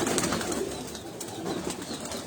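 Sialkoti pearl-marked pigeons coo softly and steadily, a low murmuring bird sound that runs through the whole stretch over faint background noise.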